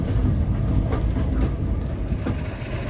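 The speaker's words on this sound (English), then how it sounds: "50007 Hercules departing Bewdley Station." Class 50 diesel locomotive 50007 Hercules pulls away from Bewdley station on a heritage railway, its heavy engine droning loud and close with a steady low rumble and faint wheel clatter throughout.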